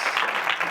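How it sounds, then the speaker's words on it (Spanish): A church congregation claps for the Lord during a Spanish-language service, a short burst of crowd applause, fairly loud and close, pulsing slightly in intensity. "Dale un aplauso al Señor, mi hermano."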